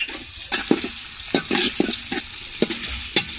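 Chopped onion dropped into hot oil in a pot over a stove fire for khichuri, giving a steady close sizzle broken by short scraping stirs and clatters, with no talking.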